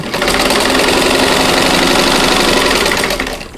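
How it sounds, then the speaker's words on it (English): A sewing machine stitches a seam on quilt block triangles, running in one loud continuous whirring burst that starts and stops cleanly, close up with no talk. "just going to sew on one side"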